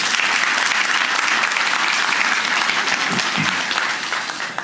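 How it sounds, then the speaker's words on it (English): An audience at a political speech applauds loudly and continuously, a dense wash of many hands clapping that holds steady and begins to fade near the end. "Let's give her a round of applause."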